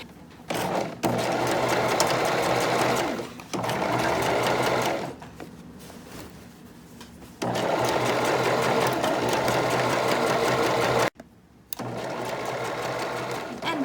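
A sewing machine back stitching a seam at the top of the arm on a knit dress. Close, loud bursts of rapid needle chatter stop and restart several times, with brief quieter pauses between runs.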